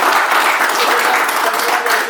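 An audience claps steadily through a religious talk in an Indonesian setting: dense, even hand clapping at constant loudness for about two seconds, with no speech over it.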